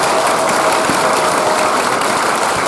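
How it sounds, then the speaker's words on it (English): A Veterans Day audience gives a final round of applause for veterans, a steady wash of many hands clapping for several seconds with no break. "Let's throw a final round of applause to all our veterans as a show of gratitude"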